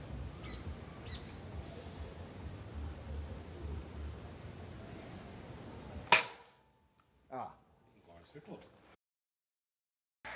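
Webley .20 calibre (5 mm) air rifle fired at about 45 metres toward an empty beer can, a single sharp crack after steady wind noise, followed by short fainter knocks; speech occurs around it.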